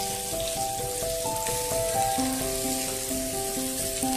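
Mackerel fries in a pan for a Kerala-style roast, giving a dense, continuous, close sizzle and spatter with steady background music beneath it.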